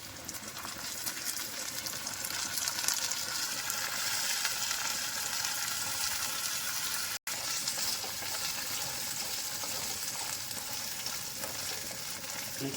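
Soaked green peas fry in a hot pan for mushroom curry, giving a steady, loud, close sizzle that hisses without a break and has a brief dropout partway through.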